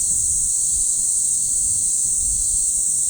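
A dense chorus of cicadas in Japanese summer keeps up an unbroken, loud, high-pitched drone, with low outdoor rumble underneath and no other distinct sounds.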